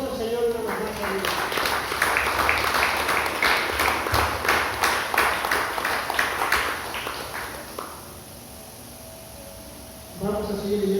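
A church congregation breaks into strong applause, dense rhythmic clapping that swells and then tapers off, with a voice speaking before and after and some talk over the clapping.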